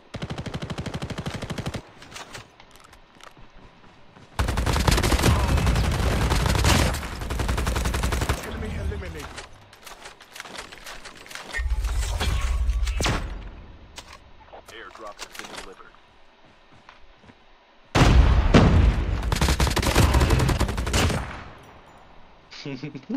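Automatic weapon fire in Call of Duty Mobile comes in loud, sustained bursts separated by quieter gaps, with people talking over the game.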